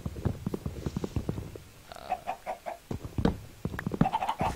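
Chickens cluck in a Minecraft world, a run of short, close clucks and squawks repeating in irregular bursts over a low, busy game background.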